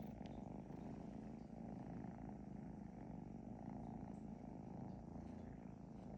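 Steady, soft, continuous purring from a kitten, low rumbling and unbroken throughout, close by and quiet with no talking.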